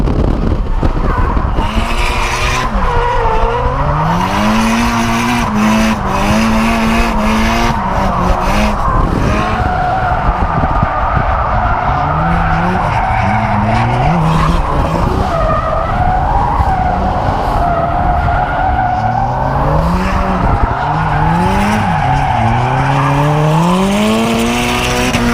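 A Toyota GT86 at full throttle in first gear on the Rockingham track during a drift day, engine droning and rising in pitch alongside loud, continuous tire squeal and skidding, close and unbroken with no talking.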